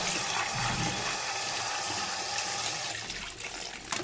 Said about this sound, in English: So basically washing these green looking beans. You're washing them in hot water